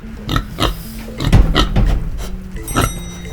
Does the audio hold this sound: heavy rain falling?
no